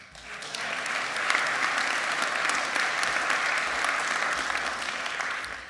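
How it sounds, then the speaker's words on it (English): A theatre audience at a variety show applauds steadily for several seconds, with dense clapping that swells quickly and then eases off. "And a special round of applause for Bill Borman Cornell"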